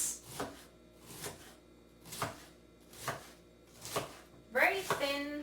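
A knife slices cabbage into thin strips on a cutting board, producing a sequence of six or seven crisp, evenly spaced chops, close and quiet, with a voice speaking briefly at the end.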